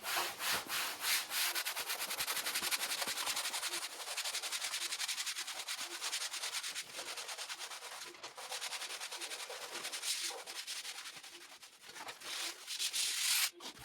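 Film is rubbed down by hand onto a concrete closet door, a close, steady scrubbing and swishing with repeated strokes that continue throughout.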